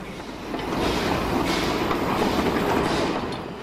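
Geared Sn3 model locomotive running on a 1930s-era lumber company model railroad layout, a steady rolling, clattering rumble that builds within the first second and holds evenly, close and moderately loud, with no voices.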